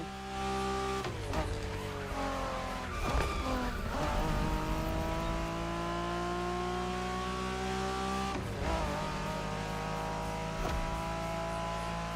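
A Honda NSX sports car engine revs and drones through rising gear changes, with brief dips between shifts, loud and continuous in the racing game The Crew Motorfest.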